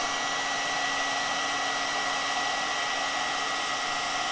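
Heat tool for paper crafting blows hot air in a steady, even broadband whoosh with a faint constant hum, continuous and close for the whole stretch, with no voices over it.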